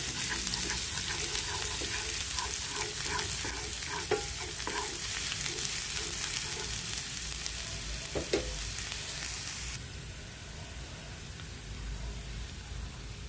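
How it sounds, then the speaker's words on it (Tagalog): Garlic and onion sautéing in oil in a frying pan for tuna rice, a dense, loud, continuous sizzle with occasional utensil taps and scrapes, close up, easing slightly in the last few seconds, no voices. "Yan, igisa ko muna ang bawang."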